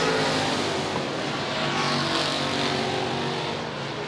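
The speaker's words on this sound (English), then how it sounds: "Carter, hard on the gas" Open-wheel UMP modified race car engine held hard on the throttle at All Tech Raceway dirt track, a loud sustained roar with steady intensity throughout.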